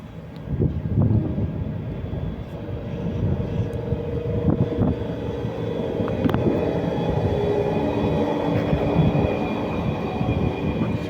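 A TCDD freight train hauling ore rumbles past at close range, a steady low roar of wagons and wheels lasting throughout with faint rattles and clanks on top and no talk.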